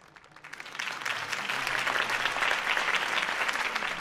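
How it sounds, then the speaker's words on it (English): Crowd applause in a Batman video game, following Harvey Dent's campaign speech: dense, steady clapping that swells in over the first half second and holds at full strength without talk. "If only Mr. Wayne, my campaign's largest backer, could have heard that applause"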